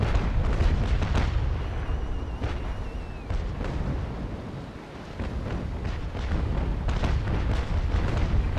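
Heavy rolling cannon broadside fire from sailing warships in the naval battle game Naval Action, continuous overlapping booms and thuds, loud and dense throughout.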